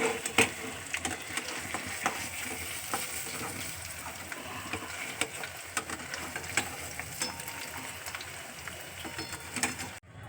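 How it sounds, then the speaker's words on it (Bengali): Whole garam masala and cumin seeds sizzle in hot oil for a cauliflower and paneer curry, a soft, crackly, steady frying hiss with scattered small pops. "তেল গরম হয়েছে গরম মশলা জিরে ফোড়ন"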